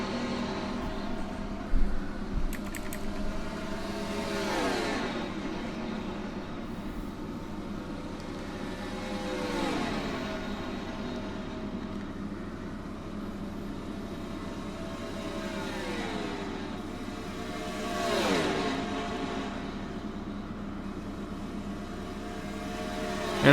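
Race car engines in a video game All-Star Race at Texas surge at the restart, several engine notes sweeping up and falling away in a few distinct passes over a constant background drone, moderately loud.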